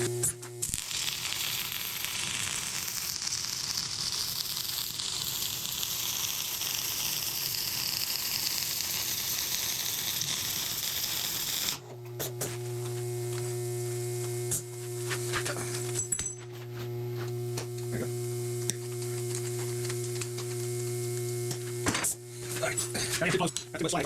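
Arc welding stitches two steel door roller pieces together, a steady loud crackling sizzle that runs for about twelve seconds, then stops and gives way to quieter shop noise.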